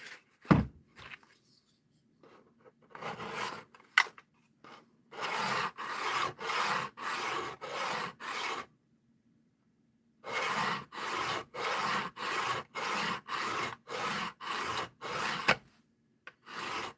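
Hand sanding a knife blade with 400 grit sandpaper, a series of quick rhythmic rasping strokes in bursts, close and fairly quiet, with brief pauses between sets.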